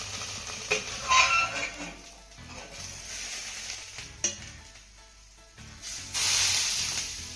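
Garlic potatoes roast in a covered iron tawa, a soft steady sizzle and hiss with occasional clinks and scrapes of utensils against the pan, faint and close.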